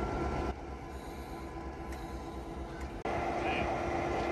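Diesel locomotive NC&St.L 710 being swung on a railroad turntable by an electric motor, a steady loud mechanical rumble and hum throughout with a brief dip and clunk near the end.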